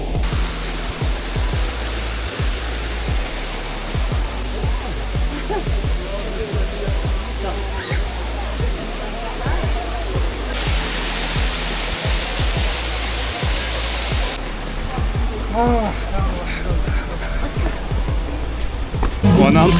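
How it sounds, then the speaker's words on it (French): A small waterfall in the Moroccan countryside gives a steady, loud rush of falling water that fills the whole stretch with an even, unbroken roar. "C'est vrai que la cascade est un peu petite, mais c'était très bien."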